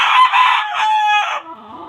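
A rooster crows loudly and close by in a limber pen, one drawn-out call that ends in a few lower clucking notes.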